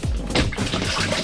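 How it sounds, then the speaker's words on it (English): Water and waste gush out of a disconnected boat toilet pipe, a brief close burst of gurgling, splashing flow that surges and sputters over about a second. "that was the noise of water and urine and all the stuff in the toilet."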